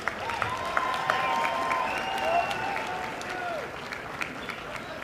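Audience at a San Diego Comic-Con convention panel for the film Let Me In breaks into sustained applause and some cheering, a steady crowd clapping heard from within the hall for several seconds.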